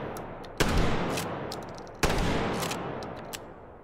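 Two loud, sharp blasts from a KSG 12 gauge tactical shotgun with twin magazine tubes in the H3VR virtual reality game, spaced about a second and a half apart, each booming report decaying into a long echoing tail.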